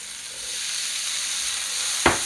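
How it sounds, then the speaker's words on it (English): Garlic, onions and scallions frying in a hot pan, a steady close sizzle and hiss throughout with a brief sharp crackle near the end. "Garlic and onions and scallions are quite easily burned, so you don't want to overdo it."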